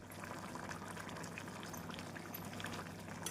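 A pot of vegetable kurma simmers with a continuous, soft bubbling that stays faint and even throughout.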